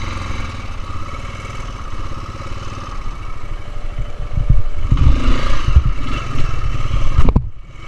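A small Honda motorcycle engine drones loudly and nearby, then climbs into a harder rev with clattering as the rider lifts the front wheel into a wheelie, before cutting off abruptly at the end.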